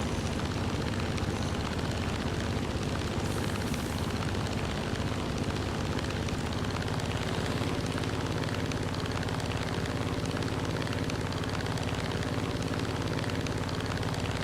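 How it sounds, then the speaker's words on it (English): Steady broadband engine drone of another aircraft in a flight combat video game, continuous and fairly loud throughout alongside the player's own plane noise. "I can hear something. Not just my own plane. I hear something else."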